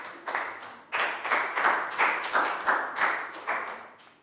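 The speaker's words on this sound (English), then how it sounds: "High five and a big round of applause for Pak Bung" A Year 4 maths class claps for a student, with loud, close, rhythmic group claps landing in steady beats about every half second, each burst slightly ragged as the children clap together.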